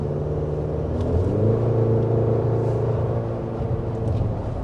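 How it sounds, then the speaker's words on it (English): A 2025 Chevy Colorado midsize truck engine revs under throttle, a loud, close rumbling drone that climbs and eases in pitch over several seconds, with no speech. "Change your foot position on the throttle and you get a really nice quick response."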